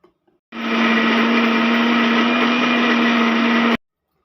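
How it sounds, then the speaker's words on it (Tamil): An electric kitchen mixer grinder runs for about three seconds, grinding roasted peanuts and other chutney ingredients in a mixie jar; a loud, steady whirring roar that starts abruptly and cuts off cleanly, with no talking. "இது ஒரு மிக்ஸி ஜாரில் போட்டு அரைச்சி எடுத்துக்கலாம்."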